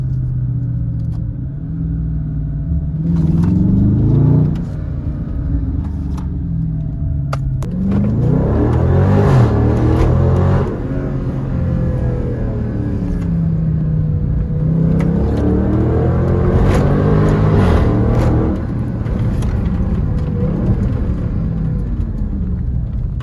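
A Dodge Charger Scat Pack with a 490-horsepower V8 rumbles at idle, then revs hard several times in rising and falling sweeps, loud and close with no talking.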